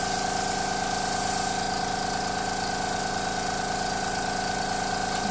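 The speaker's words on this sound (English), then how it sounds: "I want a light spray over the whole outside of the cake" An airbrush lays a light, even coat of color over the outside of a sunflower sheet cake decorated with stencils, giving a steady, unbroken hiss with a constant motor hum underneath, close and continuous.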